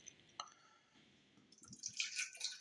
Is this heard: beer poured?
yes